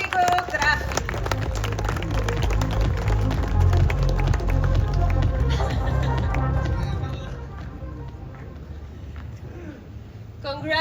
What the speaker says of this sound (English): please give a warm round of applause to Diego Graffi.